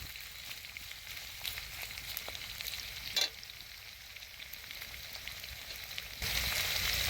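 Onions and green chillies fry in hot oil for Rayalaseema-style uggani bajji, a steady close sizzle with brief stirring clatters and a louder burst of frying near the end.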